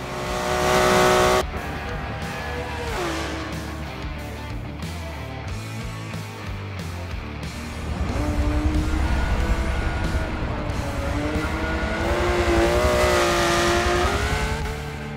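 An Italian-American classic car is driven hard through a race track's final corner, its engine loud and close, rising and falling as it revs, with tires squealing in the turns.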